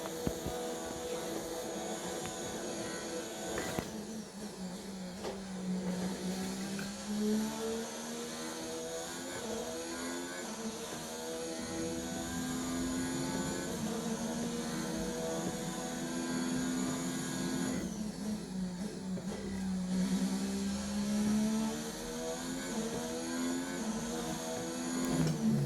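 Formula 1 car engine in the F1 2019 video game on a qualifying lap, a high-pitched engine whine rising and falling through repeated gear shifts and throttle changes, continuous and loud with no talking.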